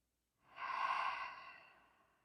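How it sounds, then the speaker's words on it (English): A slow, breathy exhale pushed out through the mouth during a yoga slow flow, swelling quickly and then trailing off softly over about two seconds, close and alone. "Exhale out your mouth like you're deflating a ball."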